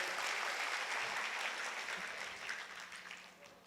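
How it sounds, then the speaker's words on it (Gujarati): An audience claps loudly and continuously to welcome a speaker at a public event, the dense applause slowly fading over a few seconds, with a voice faintly audible beneath it. "આપણે જોરદાર તાળીઓના ગગડાથી વધાવીએ સાહેબને"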